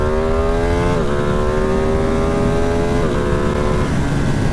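Ducati Streetfighter V2 V-twin motorcycle engine running steadily and loud throughout while riding, with a droning exhaust note that shifts pitch at two gear or throttle changes.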